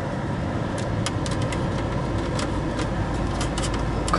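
A Hummer H2 V8 engine idles with a steady, low continuous rumble, with faint clicks and ticks over the top.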